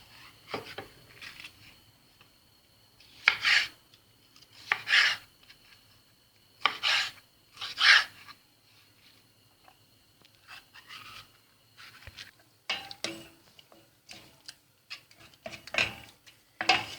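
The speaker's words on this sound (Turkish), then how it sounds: "Ve biberlerimi doğramaya başlıyorum hemen." A knife chops peppers on a cutting board, heard as scattered bursts of rasping, scraping strokes with quiet gaps between them in a home kitchen.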